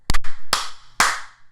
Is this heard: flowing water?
no